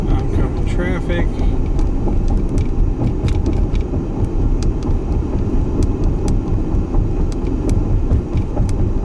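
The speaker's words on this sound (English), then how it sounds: "Oncoming traffic." Oncoming cars rush past a moving Tesla on a cold road, a steady broad roar of road and wind noise inside the cabin with faint ticks.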